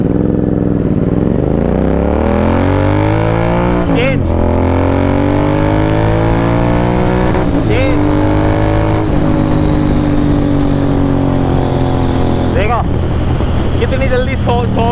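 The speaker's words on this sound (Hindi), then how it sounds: "यहाँ देखना कि मैं फर्स्ट जब गियर चेंज करूँगा ना तब मैं आपको बता दूँगा।" A motorcycle fitted with an iridium spark plug accelerates hard on a rough road, engine pitch climbing and dropping through several gear changes, loud and close under wind roar, with someone talking over it.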